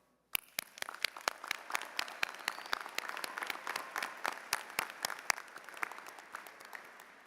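Applause at the ICC 2024 college commencement: a crowd claps steadily after a brief silence, with sharp individual claps standing out over a dense wash of clapping, heard from a moderate distance.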